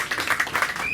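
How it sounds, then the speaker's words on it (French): An audience claps steadily for President Moïse at a political party rally, a dense, even patter of many hands that carries on throughout. "Est-ce qu'on peut applaudir pour le président Moïse?"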